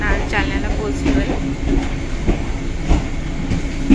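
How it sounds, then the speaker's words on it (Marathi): Train at Jalna railway station, a continuous loud rumble with rhythmic clatter of carriage wheels and a final thump, and people talking over it. "आता आपण आलोय जालन्याच्या रेल्वे स्टेशनवरती"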